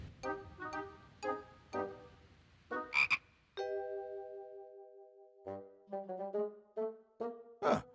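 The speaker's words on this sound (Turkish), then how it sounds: "Ha, ah, bu bir kurbağa." A cartoon frog croaks in a run of loud, rhythmic calls, some short and choppy and one long drawn-out note, with no talking over it.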